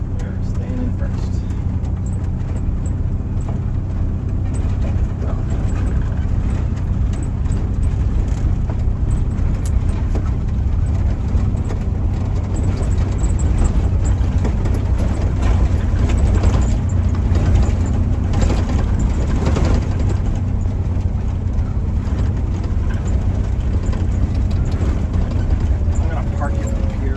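A vintage MCI 5 bus with oil leaks drones on a test drive, its engine a steady low rumble throughout, with someone talking over it.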